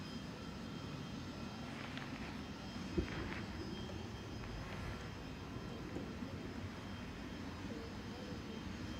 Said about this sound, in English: 787-9 coming in from Doha, A7BHK, just touching down on 23 right now with flight 23